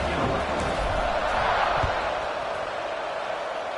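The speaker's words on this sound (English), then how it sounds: "this crowd is buzzing after that last score" A college football stadium crowd from the Rice versus Troy game buzzes after a score, a steady, broad roar of distant voices filling the space without pause.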